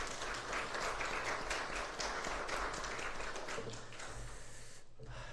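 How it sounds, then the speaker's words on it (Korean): A congregation in a university chapel service claps in thanks, a dense, even round of applause that tapers near the end. "우리 감사의 박수 하겠습니다."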